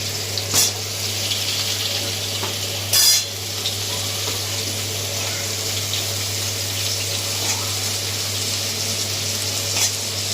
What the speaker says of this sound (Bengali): আলু আর এই গাজরটা একটু ভাজা ভাজা হয়ে গেছে